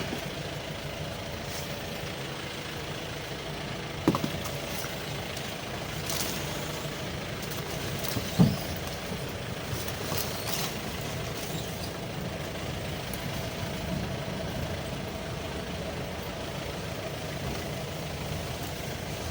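A safari jeep engine idles while stopped on a hillside track at Kolukkumali, a low steady rumble continuing throughout with a couple of brief knocks or clunks.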